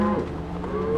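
Cattle moo loudly and continuously, several overlapping low calls close by, as cows are herded down a fenced country road.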